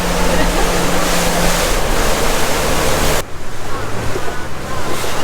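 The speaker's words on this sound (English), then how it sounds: "The boat is going relatively fast," Small boat speeding over ocean waves near Tai O fishing village, Hong Kong, with loud continuous wind and water rush, a steady low engine drone and heavy wind buffeting on the microphone, the roar dropping slightly partway through.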